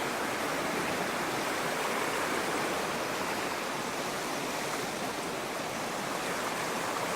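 Stream water at a Dolly Sods campsite in West Virginia rushes in a steady, unbroken wash, close and constant, with no voices over it.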